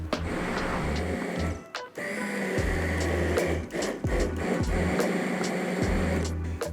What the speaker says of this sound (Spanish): Añadimos la nata y a triturar.